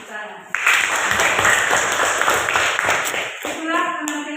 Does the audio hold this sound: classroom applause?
yes